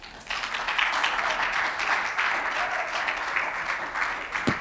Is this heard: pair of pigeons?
no